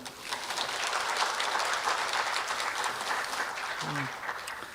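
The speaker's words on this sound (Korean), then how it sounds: "참가하신 여러분의 큰 박수와 함께 본 포럼을 시작하도록 하겠습니다." Attendees at an AI education forum applaud to open the event, a moderately quiet but sustained patter of clapping in a hall, with a brief faint chirp-like sound near the end.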